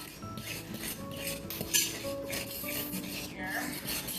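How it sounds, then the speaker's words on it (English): Banana bread batter being mixed in a bowl with a utensil, a steady rubbing, scraping stir with light clinks against the bowl running throughout, close and continuous. "I'm going to mix that around"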